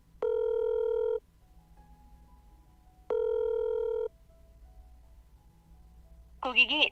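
A telephone ringback tone sounds twice while a call goes unanswered, each a long steady electronic burr separated by a pause of quiet line hiss, followed by a brief voice at the end.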